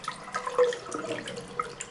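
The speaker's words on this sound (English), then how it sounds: "Check the water pressure here." Water runs steadily from a bathroom sink tap in a bathroom with tiles, a hissing, splashing flow at moderate level with no voices.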